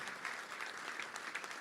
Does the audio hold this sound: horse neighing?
no